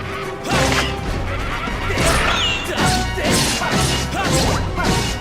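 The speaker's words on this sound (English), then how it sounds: "Still can't get over that weird bird noise that Stalfos make when they die" Stalfos enemies in Zelda: Skyward Sword die with an odd bird-like squawk, heard as a brief, high chirping cry amid loud repeated crashing and whacking combat impacts.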